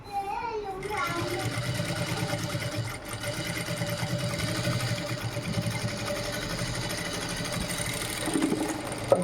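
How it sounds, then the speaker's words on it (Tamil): A sewing machine runs steadily and slowly while stitching a blouse patti, a continuous mid-level mechanical whir with a regular rapid needle rhythm that carries on almost without a break, with a brief pause near the third second. "எப்போவுமே நம்ம ஸ்லோவாக தைச்சோன்னா மிஸ்டேக் வராமல் தைக்கலாம்."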